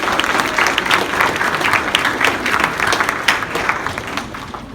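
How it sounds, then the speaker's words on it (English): Students applaud guests at a Blue Ribbon recognition ceremony at an early college high school, a dense, steady crowd clapping that holds for several seconds and tapers slightly at the end. "Students, please give our guests a special round of applause."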